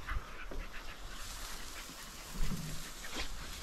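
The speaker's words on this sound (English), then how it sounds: "good dogs, good dogs, good dogs. Good dogs." Several dogs whimper and pant close by in a rough, noisy stretch, with steady breathy rasping and occasional higher whines.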